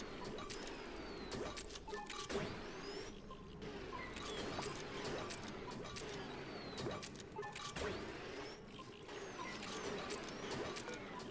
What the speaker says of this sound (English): these 3 doors open and then slowly close to push all of the gas that's in these 6 tiles this way